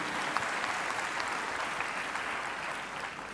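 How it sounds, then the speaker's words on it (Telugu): A church congregation claps loudly and continuously, a dense, even wash of applause filling the hall without pause and with no one speaking. "గట్టిగా చప్పట్లు కొట్టి ప్రభునామమును మహిమపరచండి."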